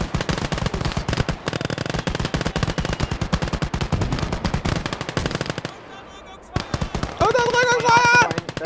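Machine guns laying down suppressing fire in the World War II strategy game Gates of Hell: long, rapid, loud automatic bursts rattle continuously, broken by a brief lull before the firing resumes amid other battle noise.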